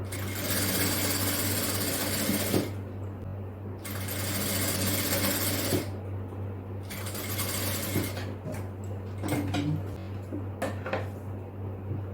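A sewing machine stitches a folded hem of about 1.5 inches during a tailoring class, running in steady bursts with short pauses between runs, close and fairly loud over a constant low hum.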